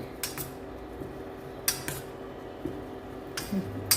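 A utensil stirring orange peels with milk in a metal pot gives sparse, quiet clinks and scrapes against the metal at irregular intervals, with near silence between them.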